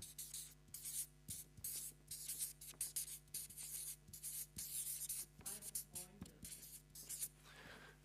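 A pen scratches across paper during a church sermon, a quiet run of irregular short strokes and scribbles with brief pauses between words, close and isolated with no speech over it.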